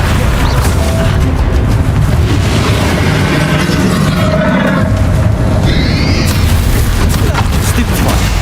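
Stupefy spell cast during combat in Hogwarts Legacy, a loud booming magical burst amid dense, continuous battle noise with spoken voices over it.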